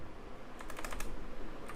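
Rapid close keystrokes as a formula is typed on a computer keyboard in an Excel spreadsheet, a quick burst of clicks over a faint background hiss.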